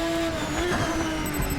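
A high-revving V6 race car engine in RaceRoom Racing Experience drones loudly and steadily at high rpm, with a continuous tonal whine throughout this short moment.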